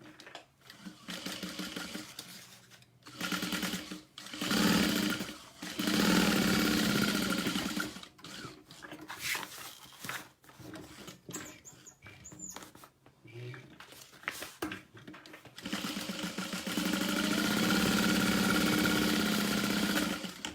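A sewing machine stitching an all-vinyl tote at a small stitch length, loud buzzing runs in bursts separated by short pauses, with a person talking in between.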